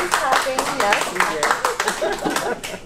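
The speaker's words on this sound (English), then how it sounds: "I am clapping, yes" Hands clapping at a red carpet gala, quick uneven claps mixed in with someone speaking and light chuckling close by.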